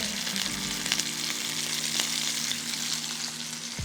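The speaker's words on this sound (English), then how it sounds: "This is gonna sizzle and be quite loud." Chicken thighs sizzling loudly in a hot pan, a dense, even crackle heard up close for the whole stretch over a faint low hum, with no talking.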